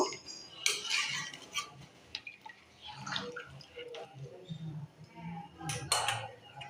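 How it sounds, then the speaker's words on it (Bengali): Mutton kosha being stirred in a pot after water is added, a spoon clinking and scraping against the metal in irregular bursts, close and moderately loud, with wet bubbling underneath. "জলটা দেওয়ার পর ভালো করে নাড়িয়ে নেব"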